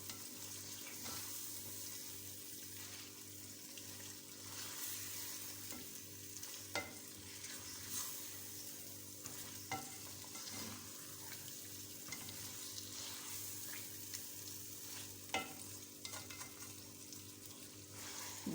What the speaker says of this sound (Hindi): चिकन की भुनाई बहुत अच्छे तरीके से करनी है हमने